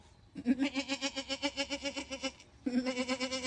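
A human voice imitates a goat bleating in two wavering, pulsing bleats separated by a brief pause, close and clear.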